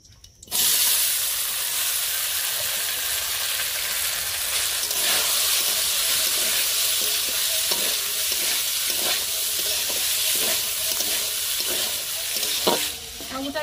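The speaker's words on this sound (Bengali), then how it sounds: "সাবুটা আমি হালকা করে ভেজে নেব।" Sago pearls frying lightly in ghee for a sago payesh, stirred in the pan, making a loud, steady sizzle with a soft hiss and recurring scrapes of the spoon throughout.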